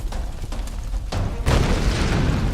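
Explosions rumble through a Tomb Raider game scene, a run of deep booms and bursts that swell into a loud, sustained blast of roaring debris, with no talk over them.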